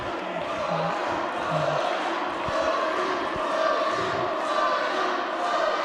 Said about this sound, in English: You can hear both Low-Key and Tyler back and forth from this crowd